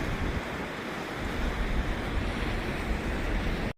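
Cumberland Falls, a waterfall with churning water below, gives a steady, dense roar that fills the whole clip and cuts off abruptly at the end.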